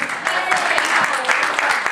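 Church congregation applauding together, dense steady clapping filling the room, loud and close throughout.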